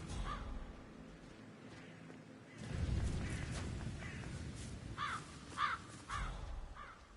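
Crows caw in a Hitman 3 level set in Dubai, a run of harsh calls at the start and another cluster of sharp caws later, heard over a steady ambient background with no talking.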